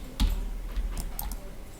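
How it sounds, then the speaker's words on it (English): Computer keyboard key presses during 3D modeling work, a few soft clicks at irregular spacing, faint and close against low background hum. "press 1 on the keyboard to return"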